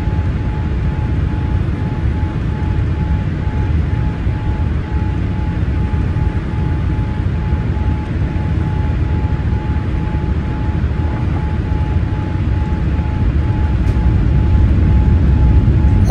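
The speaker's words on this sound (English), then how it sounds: "As you notice, the plane is inclining now. It's going up." Inside the cabin of a Boeing 787-9 airliner climbing during a go-around, a loud, steady broadband engine and air roar fills the space with a faint constant tone, unbroken throughout.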